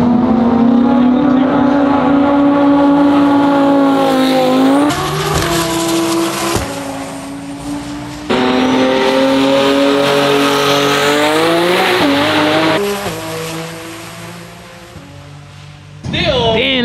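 A twin-turbo Gen 5 Dodge Viper and a twin-turbo Lamborghini R8 race at a Texas event, engines screaming up through gears in loud sweeping bursts with sharp shift breaks, passing close, while a crowd murmurs beneath.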